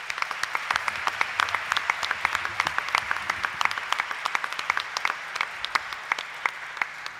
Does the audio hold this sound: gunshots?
no